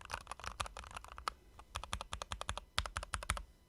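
Typing on a Keychron Custom V2 mechanical keyboard with brass screws and a translucent case: quick bursts of close, crisp, poppy keystrokes, with a brief pause midway, alone without talk.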